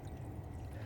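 Water draining out of the end of an underground SDR 35 drain pipe in a backyard, a steady low gurgling pour, close and continuous for under a second.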